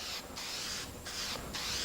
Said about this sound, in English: Go ahead and spray it.